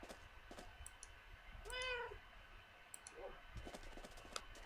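A Minecraft cat gives a single clear meow, faint beneath keyboard and mouse clicks in a quiet game scene.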